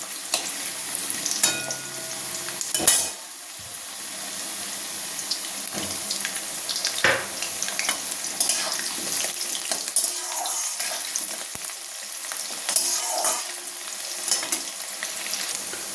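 Potatoes frying in a pan with chopped onion, garlic and green chilli, a steady sizzle punctuated by repeated scraping stirs and occasional clinks of a spatula.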